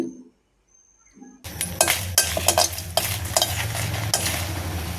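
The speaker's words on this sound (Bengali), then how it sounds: "আমি এখানে কয়েকটা শুকনা মরিচ তেলে নিচ্ছি" Dried red chillies dropped into oil for a raw mango Burmese pickle, with near silence first, then sudden loud sizzling and crackling, with clinks and spoon scrapes against the pan.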